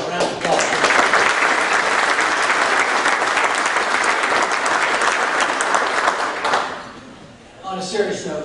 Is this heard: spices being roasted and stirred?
no